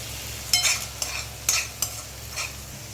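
A spoon stirring chili powder into egg curry in a pan, with several short scraping strokes over a faint sizzle, close and quiet.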